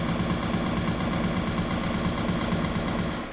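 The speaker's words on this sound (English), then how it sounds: "Does it work for this gun?" A gun in a homemade C++ OpenGL first-person shooter fires a fast, unbroken machine-gun stream of rapid shots, loud and even throughout before trailing off at the very end.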